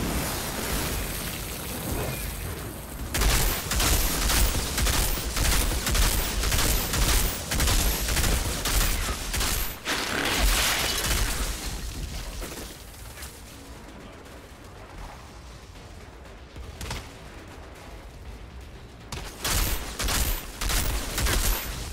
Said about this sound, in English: Mortar rounds, man.